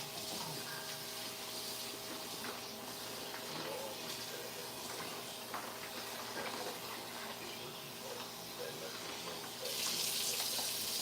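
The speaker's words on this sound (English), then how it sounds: "let me rinse this bag out" Tap water runs steadily into a sink while a plastic bag is rinsed out after cleaning ribs, a continuous close hiss and splash that swells slightly louder near the end.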